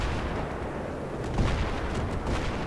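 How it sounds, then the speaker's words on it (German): Tank cannons trade fire during a Battlefield 3 tank duel, a dense run of heavy booms and rumbling blasts that carry on steadily for a few seconds with no voices. "die liefern sich gerade so ein episches Panzerduell"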